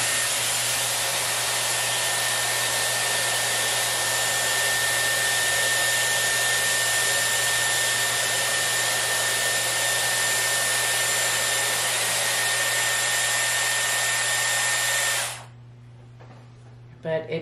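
Dyson Airwrap hair styler blowing air, a loud, steady close whoosh with a constant whine that runs without a break for about fifteen seconds, then switches off.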